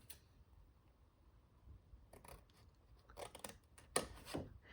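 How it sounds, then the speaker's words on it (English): Scissors snipping through paper up to a score line for a paper folio, heard close and quiet as a series of short crisp cuts that grow busier and louder toward the end. "on this side, we're just going to cut up to that score line"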